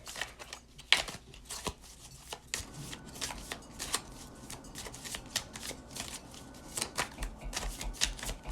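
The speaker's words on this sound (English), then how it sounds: "I'm just going to pick one more card to overall it" Tarot cards shuffled and drawn by hand, a steady run of crisp riffling flicks and soft slaps, close and fairly quiet, with no talking.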